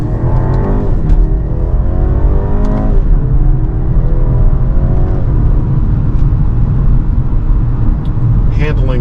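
A 2024 BMW 330i sedan accelerates and shifts up through its gears, with a steady engine drone rising in pitch in a few sweeps and dropping at each gearchange. A voice talks over it throughout.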